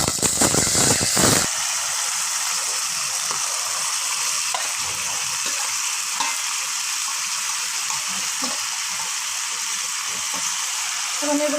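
Vegetables frying in oil as they are stirred in a pan, a loud crackling sizzle that starts with a burst of clatter and settles into a continuous hiss with occasional scrapes.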